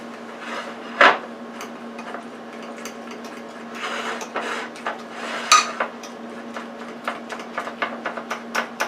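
Buttermilk batter for fried chicken fingers is stirred in a bowl, with scattered clinks and scraping taps of a utensil against the dish, sharper knocks near the start and middle and a quick run of light taps toward the end.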